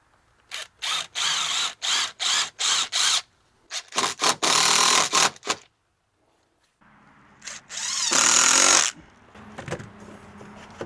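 Hinges screwed into a wooden deck gate with a power driver, several short whirring bursts in quick succession, then longer runs separated by pauses, close and loud.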